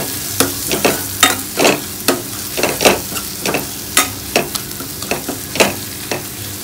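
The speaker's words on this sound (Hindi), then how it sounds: "इसमें हम डालेंगे धनिया पाउडर और सब्जी मसाला और इसको हम अच्छे से भून लेंगे" Coriander powder and sabzi masala roasting in oil in a pan for a potato and long bean curry, loud close sizzling broken by frequent crisp spatula scrapes in a quick, uneven rhythm, with no talking.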